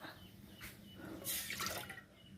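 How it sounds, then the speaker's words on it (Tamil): Water is poured into a cooking pot set on a wood-fired stove, for badusha made with maida: a brief, faint splashing pour with a few drips, heard alone. "ஒரு கப்பு தண்ணி ஊற்றிருக்கு."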